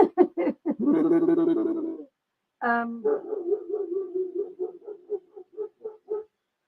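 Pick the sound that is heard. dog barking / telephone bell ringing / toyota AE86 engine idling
dog barking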